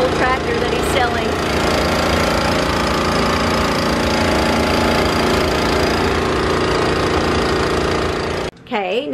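A loud, steady mechanical roar runs nearly the whole time, like a pressure washer or engine, as an old tractor is cleaned outdoors, with a voice briefly heard near the start and end.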